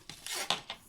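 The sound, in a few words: cutting a small slit in card for a card project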